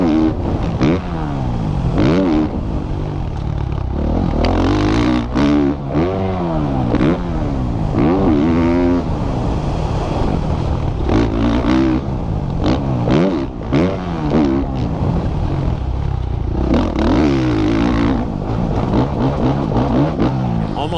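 A motocross dirt bike engine revs and surges repeatedly through corners, with the throttle held back and then snapped open late, giving loud, close bursts of rising and falling engine pitch over about twenty seconds.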